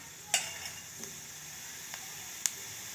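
A soft, steady sizzle of spices tempering in hot oil, with a few sharp pops and crackles scattered through, fairly quiet and without any talking.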